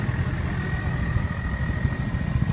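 A deep, steady engine idle of a 2002 Hummer H1 with a straight exhaust rumbles continuously with a throaty low drone and no voices.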